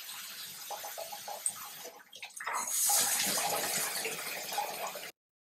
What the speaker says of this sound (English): Now let's engage the shower head.